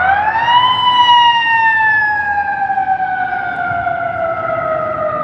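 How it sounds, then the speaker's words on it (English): An ambulance siren passing on a Chicago street, a loud wailing tone that rises and then slowly falls in pitch as it goes by, over steady traffic noise. "Here comes a ambulance."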